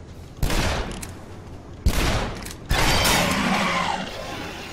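Pistol gunfire in the shooter game Shadow Warrior: three loud, sharp shots spaced a second or so apart, each ringing out with a tail of debris and mechanical clatter.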